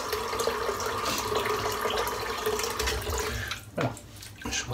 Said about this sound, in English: Just wet my head again, a bit more water